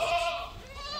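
A goat at a goat farm lets out a single close, wavering bleat that lasts about a second.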